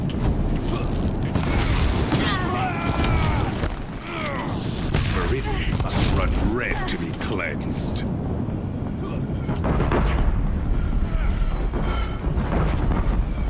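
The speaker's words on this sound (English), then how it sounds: "If the Deathbringers keep firing, this bridge will go." Deathbringer war machines fire explosives in Horizon Zero Dawn, with dense rumbling booms, mechanical clanks and whistling tones that keep up loud and steady throughout, while talk runs underneath.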